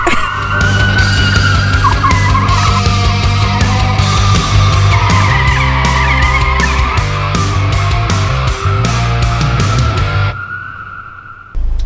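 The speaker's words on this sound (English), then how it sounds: "the basic slide drift going in this car" A front-wheel-drive Kia K5 slides across the surface, its tires skidding and squealing steadily over a loud, continuous engine drone for about ten seconds before cutting off abruptly.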